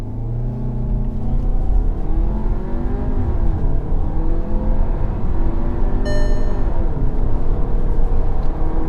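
A car's engine holds at high revs under launch control, a loud, steady, close-up roar with shifting pitch and a brief whine near the end, no voices.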